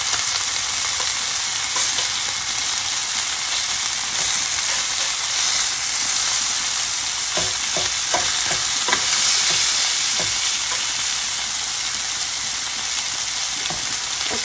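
A ribeye steak sears in a hot pan with sauteed onion, a loud, dense, unbroken sizzle up close, with a cluster of stirring scrapes and clicks in the middle stretch.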